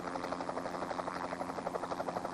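A military helicopter at a forward arming and refueling point of the Canadian Forces, its engine and rotor giving a steady, dense whine with a fast, even pulsing throughout, moderately loud and constant.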